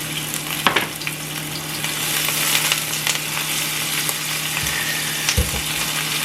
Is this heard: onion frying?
yes